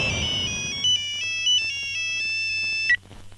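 A mobile phone ringtone plays a bright, repeating electronic melody of stepped tones for about three seconds, then cuts off. Low background hum sits underneath, and the call comes from a minister in a Bhojpuri action film scene.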